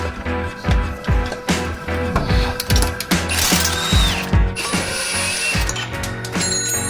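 A ratchet clicks rapidly in repeated bursts while removing T60 Torx bolts from a Camaro clutch on a garage floor, with metallic clinks between the strokes and no talk.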